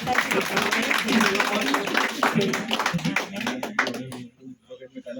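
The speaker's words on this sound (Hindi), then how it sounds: "ताली बजाओ जोरदार।" Loud audience applause at a traders' association meeting, with dense clapping running over speech for about four seconds and then thinning out to scattered claps near the end.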